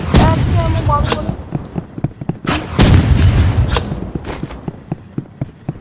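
Gunshots ring out in the video game Roblox Rivals as sharp, loud cracks and booms, some spaced and some in quick bursts. A voice speaks over the early shots.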